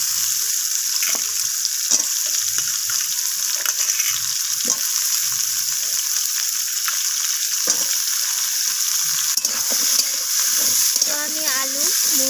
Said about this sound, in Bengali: তো আমি আলু মূলো সব কিছু একসাথে নাড়াচাড়া করে একটু ভাজা করে নিচ্ছি।